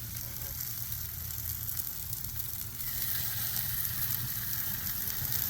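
Pork chops fry in plain oil on a Blackstone griddle, giving a steady, dense sizzle that runs close and continuous throughout and grows slightly louder partway through, with no talking.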